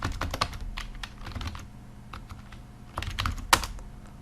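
Fingers type a PowerShell command on a computer keyboard: irregular bursts of crisp, close key clicks, busiest at the start and again near the end, with a short quiet stretch between and no talk.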